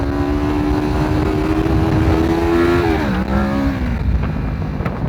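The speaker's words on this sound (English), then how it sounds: "Let's just pop a fucking wheelie." Motorcycle engine roaring close and loud on an Indian road, revving hard with a steady drone that climbs then dips sharply around the shift before building again, no talking over it.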